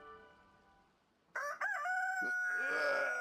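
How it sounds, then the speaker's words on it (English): A rooster crows in the Palworld video game, one loud drawn-out cock-a-doodle-doo that starts suddenly after a quiet stretch and holds to the end. "rooster is crowing"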